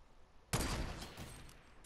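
Sniper rifle shot in the Fortnite video game, a single sudden loud crack followed by a long fading echo and rumble, heard alone without talk.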